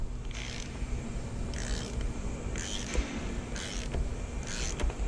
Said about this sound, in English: Now I've got a 1/2 inch ratchet on it. Go ahead and break it loose.